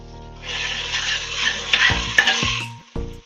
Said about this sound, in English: let's see if we can stir.